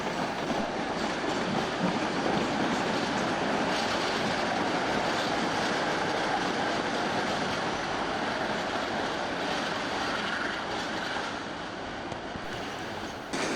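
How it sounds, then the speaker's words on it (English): ScotRail Class 47 locomotive 47711 Greyfriars Bobby hauling a short rake of Mark II coaches in the 1980s, a steady loud rumbling roar with rail noise sustained throughout and easing slightly near the end. "Here we see 47711 Greyfriars Bobby, with a short rake of ScotRail Mark IIs"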